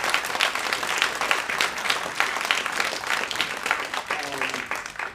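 Big, continuous round of applause from a theater audience honoring the director after a student performance, steady dense clapping throughout with some crowd voices mixed in.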